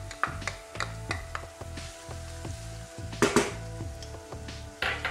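Chopped onion and green pepper fry in garlic oil with a steady close sizzle, broken by brief stirring scrapes and clinks of a utensil against the pan.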